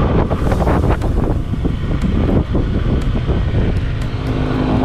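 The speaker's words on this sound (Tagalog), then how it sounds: "Hangin dito" Steady, loud wind buffeting the microphone outdoors at the Cagsawa Ruins in Daraga, Albay, a continuous roaring rush with gusty low rumble throughout and no speech.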